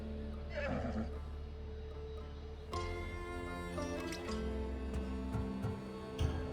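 A horse whinnies loudly near the start in Assassin's Creed Odyssey, then a steady background of game music and ambience continues with a few soft clops.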